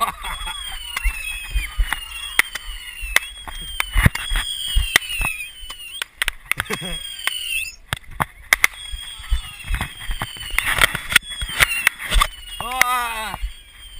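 Backyard Memorial Day fireworks go off in quick bursts of cracks, pops and whistling fizzes, near and loud, with people shouting and laughing between the blasts.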